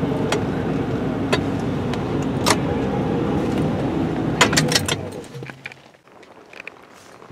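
A 1979 Chrysler 300 or Dodge Magnum XE V8 idles after a cold start, a steady loud rumble with a few sharp clicks and clatters nearby, then it suddenly drops away to near quiet.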